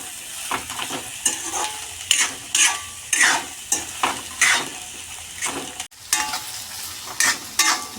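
Onions and tomatoes sizzle in a pan for pasta sauce while a spoon stirs them in repeated scraping strokes, the frying hiss steady underneath and the stirring rhythmic and close.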